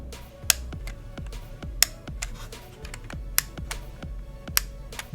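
Plastic DualSense charging station for PlayStation 5 controllers gives off a series of light, sharp clicks, some louder snaps among softer ticks, close up with no speech.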